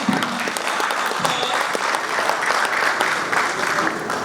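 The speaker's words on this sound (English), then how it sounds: "A round of applause for the Managing Director, Insights Redefining, Dr. Ken Ibe." Audience applause at a corporate bank product unveiling, a dense, steady wash of many hands clapping filling the room for the whole stretch, with a faint voice briefly underneath.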